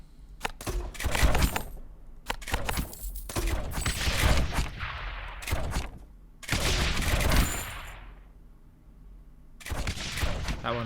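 Mortar towers fire in the tower-defense game Rogue Tower in sharp bursts of cracking, booming shots with short gaps between volleys, some tails decaying gradually.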